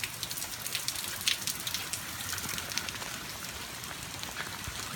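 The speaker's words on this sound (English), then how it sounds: "right now this is probably the heaviest rain that we've had all day" Heavy rain pours down steadily, a dense continuous hiss of drops pattering on surfaces, with no voices over the downpour.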